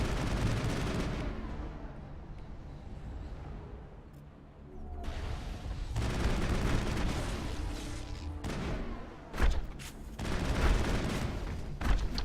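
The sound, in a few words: sniper rifle gunfire in Mass Effect video game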